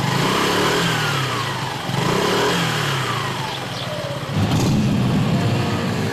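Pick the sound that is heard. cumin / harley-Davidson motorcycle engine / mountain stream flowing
harley-Davidson motorcycle engine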